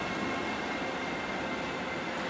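A TX Logistik intermodal freight train rolls through Augsburg main station with a steady, broad rumble and rail noise. The sound stays at an even, moderate level throughout, with no voices.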